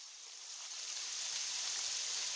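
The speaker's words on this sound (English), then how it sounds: "I'll just let this cook for about 2 to 3 minutes until the onions start to caramelize" Chopped onions and garlic sizzling in a hot pan for an eggplant stew, a steady, bright frying hiss that swells slightly and holds, close and alone without talk.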